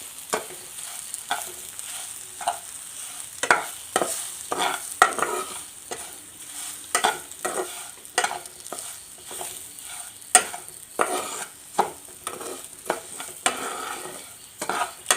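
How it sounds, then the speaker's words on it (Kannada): Bombay rava (semolina) frying in a little oil, with a soft continuous sizzle under repeated quick scraping strokes of a spoon or spatula against the pan, close and fairly quiet, without voices. "ಸ್ವಲ್ಪ ಎಣ್ಣೆಯಲ್ಲಿ ಸ್ವಲ್ಪ ಫ್ರೈ ಮಾಡ್ಕೊಬೇಕು ರವೆ"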